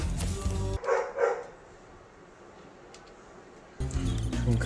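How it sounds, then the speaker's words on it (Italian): A dog in the video game Spyro 2 lets out a short run of barks, close and fairly loud, then the game goes quiet before its music and background sounds return. "C'è un cane che rompe le palle"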